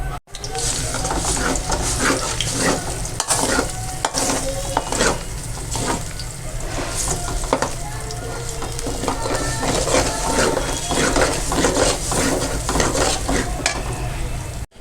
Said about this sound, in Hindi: अब हम इसको अच्छे तरीके से इसको भूनेंगे, इसकी काफ़ी बुनाई करेंगे